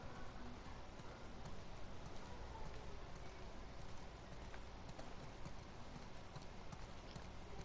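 Steady clip-clop of horse hooves in the video game The Last of Us Part II, at a quick, regular pace, fairly quiet and continuous, with no voices.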